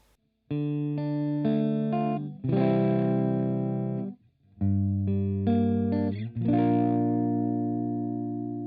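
An electric guitar plays sustained chords through heavy effects, with a chorus-like shimmer and some grit, in two phrases separated by a brief pause.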